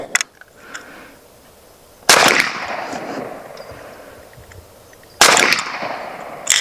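Two sharp cracks from a BINTAC T9 air rifle shooting pellets and slugs, spaced a few seconds apart and each followed by a short fading tail, near and loud in an otherwise quiet outdoor space.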